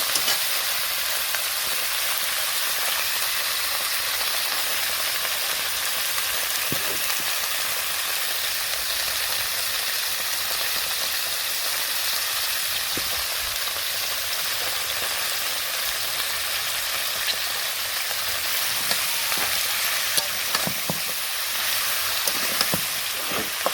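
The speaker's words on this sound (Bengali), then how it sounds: "তো আমি সবজি কষিয়ে নিই" Vegetables with salt, turmeric and chili sautéing in a pan, a steady loud hiss of sizzling throughout with occasional faint knocks of a stirring utensil, no talk.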